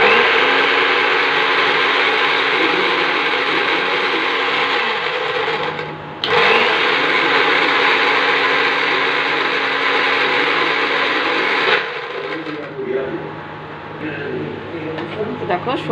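Tomato, ginger and chili whirl in an electric kitchen grinder, a loud continuous motor whir in two long runs with a short pause between, then winding down to quieter rattling.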